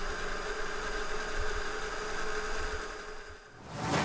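Redcat Everest Ascent RC crawler on stock 0% underdrive gearing, a steady faint electric motor and gear whine running continuously, closing with a brief louder rustle at the end.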